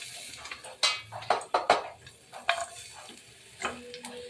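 Chopped onion dropped into hot mustard oil for a potato chop filling, with soft sizzling and several sharp stirring and spatula clatters against the pan, close and without talk.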